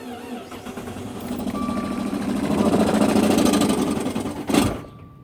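A 2013 Dodge Dart with its clutch pedal held down and a noisy flywheel assembly gives a steady mechanical whirring rattle that swells midway, ends in a brief louder clunk, then drops to silence as the engine dies.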